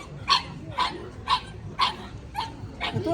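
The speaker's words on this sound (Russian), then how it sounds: "Это кто лает? Мопс?" Pugs barking at a dog show in Tashkent, a run of six short, sharp barks spaced about half a second apart, fairly close and clear over a low background murmur.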